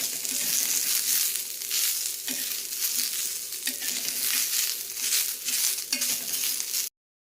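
Onion sautéing in oil in a pan, with a steady close sizzle and crackle broken by regular scraping stirs about every second and a half, then cutting off abruptly.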